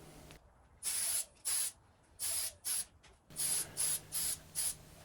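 A spray can lays a second coat of paint on a 1987 Kyosho Cosmo RC car body: seven short, sharp hissing bursts, close and fairly quiet, separated by brief pauses.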